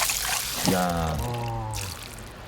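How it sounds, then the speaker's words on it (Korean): Water gushing from a wooden lever camp shower at a wild campsite, a steady pouring rush heard under an exclaiming voice. "나무 지렛대를 누르면 폭포처럼 쏟아지는 물줄기"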